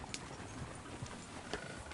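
Horse hooves clip-clop faintly in Red Dead Redemption II, a few soft, uneven hoofbeats against a noisy outdoor game background.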